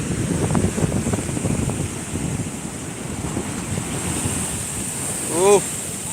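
Sea waves roll and crash on Shankarpur beach, a broad rushing surf roar with wind buffeting the microphone, steady and close, and a brief tonal whistle near the end.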